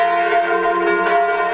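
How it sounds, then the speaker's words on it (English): Church bells ringing out for a national day of mourning in Switzerland, loud resonant tolls with sustained humming overtones, one strike swelling in as another decays, no voices. "Remembered today in a national day of mourning, with bell towers across the country in chorus"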